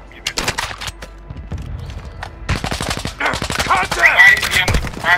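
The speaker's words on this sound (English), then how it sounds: "Where's he shooting me from?" Close, loud bursts of automatic gunfire and single shots in Call of Duty: Warzone, coming in rapid rattling volleys with brief gaps and growing denser toward the end.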